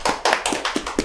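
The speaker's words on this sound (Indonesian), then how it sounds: "Tepuk tangan dulu dong." A few people clap in a loose, steady rhythm, about five distinct claps, close and fairly loud.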